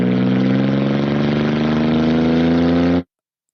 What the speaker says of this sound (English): A little bit of exhaust.